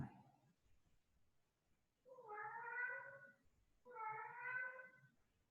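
Two long, whiny meows from a male house cat, close and distinct, separated by a short pause, with near silence and only faint background before them.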